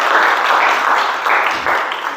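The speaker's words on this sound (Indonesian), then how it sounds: "tepuk tangan untuk kita semua." A classroom of students claps together in a short, loud, dense burst of applause that holds steady for about two seconds, with no talking over it.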